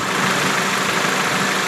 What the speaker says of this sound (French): Là, les ventilos sont mis en route